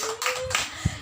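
Children in a classroom clapping game clap hands a few times in quick, sharp bursts.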